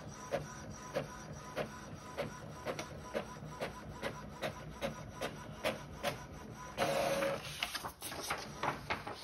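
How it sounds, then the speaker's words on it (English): An inkjet printer, being set up for sublimation printing, does a test print close by, its print head thumping in a steady, regular rhythm over a constant mechanical whir. "We're going to go ahead and do a test print on the printer"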